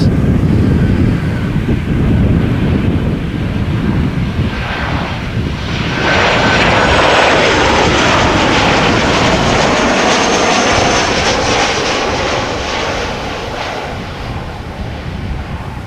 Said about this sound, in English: There's the Chinese 777 that just landed on Aalsmeerbaan.